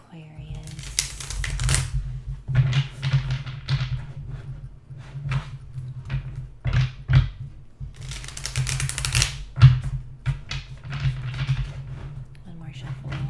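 Cards are shuffled and riffled in quick, crisp bursts of flicking and tapping, with a person talking quietly in between.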